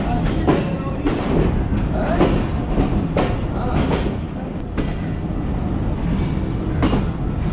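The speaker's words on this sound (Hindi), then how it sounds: "तेज़गाम एक्सप्रेस 8 डाउन लाहौर से निकल पड़ी है।" The Tezgam Express pulls out of Lahore, a loud steady rolling rumble with repeated rhythmic clickety-clack beats of wheels over rail joints, heard from close by aboard the moving train.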